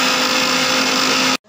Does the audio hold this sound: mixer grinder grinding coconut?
yes